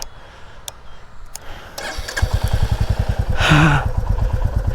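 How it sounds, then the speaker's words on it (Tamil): A Royal Enfield Bullet 350 motorcycle starts up close after a few clicks, then settles into a loud, steady, evenly spaced thumping idle with a brief rev. "உங்களுக்கு வண்டி ஸ்டார்ட் பண்ணிடுறாங்க"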